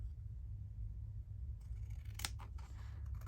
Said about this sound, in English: I'm going to have to trim it off.